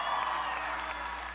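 Distant crowd cheering and applauding in a swimming arena at the Pan Pacific Championships finals, a steady wash of clapping and voices at moderate level throughout.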